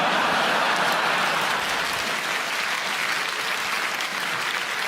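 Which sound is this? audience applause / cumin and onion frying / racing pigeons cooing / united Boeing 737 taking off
audience applause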